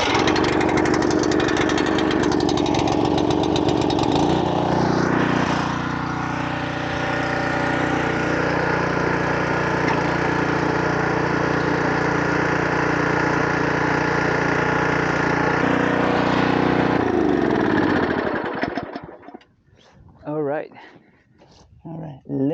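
A Champion tiller's small gasoline engine runs loud and steady at close range for about eighteen seconds, then sputters and cuts out, leaving a few faint knocks and rustles.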